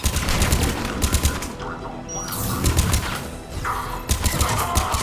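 A Mass Effect 3 video game battle brings rapid bursts of automatic gunfire that come in loud volleys, pause briefly, then resume, with a faint voice at times.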